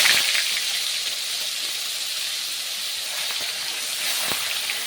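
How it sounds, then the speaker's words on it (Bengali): Onion paste sizzles in a hot kadai where fish has just been fried, a steady, loud hiss with bright crackle that holds evenly throughout, with no talking. "এখন ওই কড়াইতেই আমি যে পেঁয়াজ পেস্ট করেছিলাম পেঁয়াজটা দিয়ে দিচ্ছি।"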